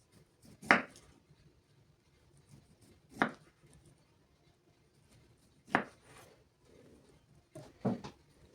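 Sparse, separate knife chops through thinly sliced beetroot on a board, four or five sharp strikes with long quiet pauses between them, close and fairly soft.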